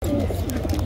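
Homing pigeons cooing at a crowded Baghdad bird market, soft low repeated coos close by amid market bustle, with a brief faint voice in the background.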